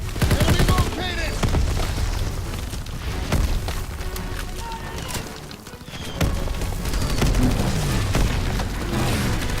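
Dense Call of Duty WWII combat with booming blasts, a grenade explosion among them, and continuous rattling gunfire that stays loud for the full stretch. Shouting voices sound through the chaos.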